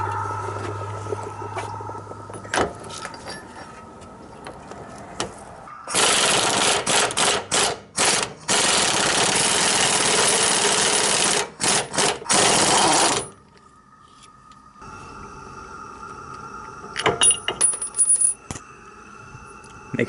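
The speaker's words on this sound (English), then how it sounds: "get hold of an impact gun like this for removing that nut" Pneumatic impact gun removing the pinion nut on a GM 10-bolt rear end from a Chevy Tahoe or Silverado, hammering in loud sustained bursts broken by short pauses, with quieter clinks and workshop clatter before and after.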